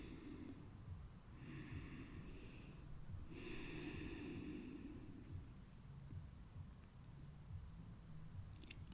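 Slow, deep breathing during a yoga flow, two long airy inhale-exhale cycles close to the mic, quiet and unhurried with no talking.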